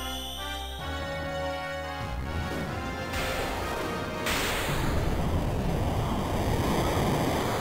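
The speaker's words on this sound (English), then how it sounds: "Still wonder why tornado is a water attack." Tornado water attack in the Xenogears video game, a loud rushing roar like crashing surf and wind that swells and thickens over several seconds, heard alone over tonal game sounds.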